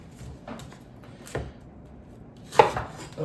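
A knife cuts an onion into small pieces on a board, with a handful of soft, separate chops spaced irregularly against quiet background.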